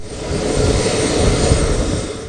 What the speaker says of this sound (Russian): Воздушный лайнер вместе с врачами приземлился в аэропорту города Ош.